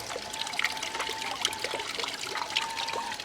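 Water trickles from a small solar-powered DIY fountain, a thin steady dribble with light splashing flecks, close and fairly quiet with no talking.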